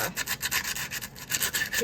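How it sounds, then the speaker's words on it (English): P120 sandpaper rubs back and forth over a custom figure, making quick, rhythmic scratchy strokes, close and fairly loud, with no talk. "I got this P120 sandpaper, and we're gonna sand off bits like his"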